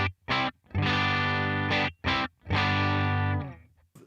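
An electric guitar rig on a Headrush MX5 through a 1x12 Black Lux cab, playing several short bursts of distorted chords separated by brief silences, up close with no talking.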